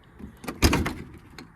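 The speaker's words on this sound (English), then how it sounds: "See where this door shuts." Door of a VW Beetle with new floor pans welded to the heater channels shutting, a single solid thunk after a light rattle, close and fairly loud.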